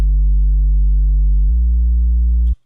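Synth sub bass with the high end filtered away, a deep, smooth, sustained tone that steps to a new pitch halfway through before cutting off abruptly, loud and alone.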